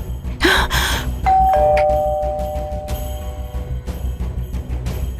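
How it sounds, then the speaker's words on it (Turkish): In an Indian TV drama scene, a two-tone doorbell chime rings clearly once, its tones ringing out and fading, with a brief breathy sound just before and faint room noise after. "Zili çalmalı mıyım?"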